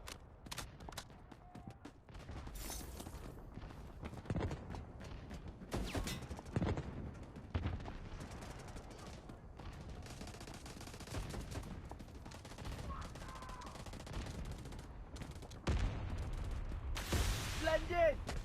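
Artillery barrage in a BGIS battle royale match: repeated heavy booms and blasts arrive in bursts, mixed with crackling gunfire and a steady game-audio din throughout.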